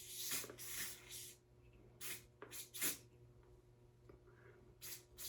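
Short bursts of aerosol spray misted onto a wig during an install, several separate hissing puffs with quiet pauses between them.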